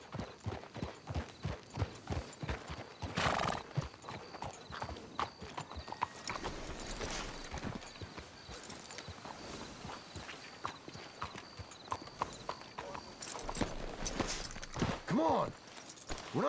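Horses in the Red Dead Redemption 2 video game clip-clop at a steady walking pace, hooves close and crisp, with a brief whinny near the end and low voices talking between the steps.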